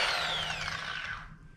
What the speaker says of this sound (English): I'm going to drop it down to the sanding mode so you can see the stroke size